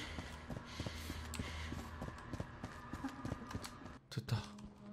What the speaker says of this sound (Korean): 근데 이거 발자국 소리 누구지? 뭐가 돌아다녀.